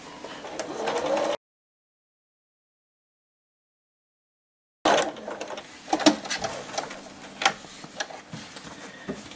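A sewing machine top-stitches close to the edge of a 2-inch fabric border sewn onto the bottom of a towel. The motor runs in a short burst, stops for a long pause, then resumes with uneven clicking and whirring.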